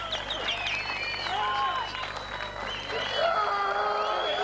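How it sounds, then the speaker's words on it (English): A strongman competition crowd cheers, whoops and applauds steadily at a moderate distance, with excited shouts rising and falling throughout and a commentator talking over the noise. "The crowd will scream for one more"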